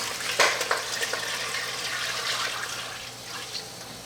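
Water is poured into a stock pot of beef bones while making brown beef stock: a close, steady splashing rush with a couple of sharper splashes near the start, and no talking.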